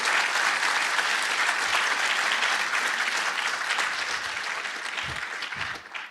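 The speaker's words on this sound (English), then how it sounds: "Please give them another round of applause." An audience at an award ceremony gives a sustained round of applause, dense many-handed clapping that holds steady and then slowly tapers toward the end.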